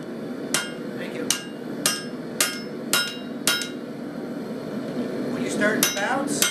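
Hammer striking hot steel on an anvil while forging a blade, six evenly spaced bright ringing blows close by, followed by a pause, a voice speaking and a couple of further strikes.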